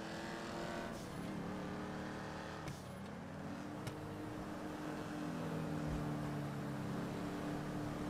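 Car driving in Grand Theft Auto V, a steady engine drone that rises slightly in pitch toward the end, with a couple of brief clicks and no talk.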